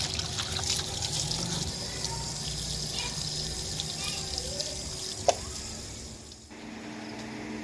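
Water runs from a tap as meat is washed in a village kitchen, a steady moderate flow with light splashing and a brief clatter, before the water shuts off near the end.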